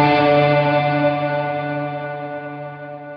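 Electric guitar bowed hard with a violin bow through effects, giving a loud, harsh, bright sustained note with echo and reverb that slowly fades, heard alone.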